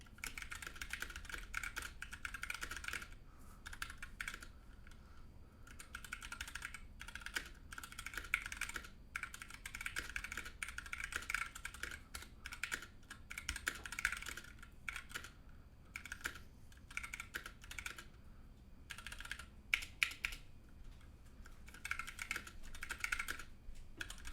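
Steady, continuous typing on a mechanical keyboard fitted with 67 gram Zealios switches, sitting on a thin, tinny desk; dense clicking keystrokes run throughout at moderate loudness with short pauses and no talking.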